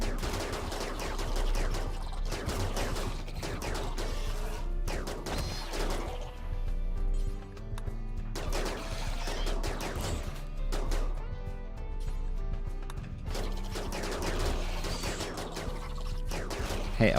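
Colonists fire repeated gun volleys at attacking insects in the RimWorld video game, with dense bursts of shots and crashes over steady background music throughout.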